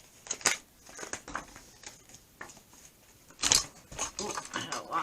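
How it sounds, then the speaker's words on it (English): Playing cards being shuffled by hand in a quiet room, a series of soft crisp riffles and flicks in uneven bursts, fairly close and faint, with a louder flurry near the end. "shuffle the cards here"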